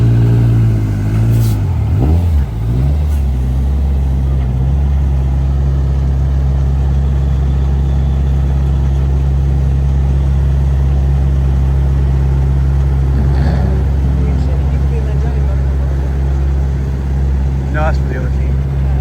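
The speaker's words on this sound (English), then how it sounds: "here's a video of them moving the car into position for the trailer" A race car engine idles with a loud, steady, deep harmonic drone while the car is moved into position onto a trailer, with a few brief revs and voices in the background.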